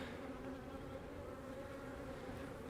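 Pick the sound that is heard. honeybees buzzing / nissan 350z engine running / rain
honeybees buzzing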